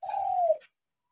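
A single drawn-out dove coo, loud and close, lasting about half a second and then cut to silence.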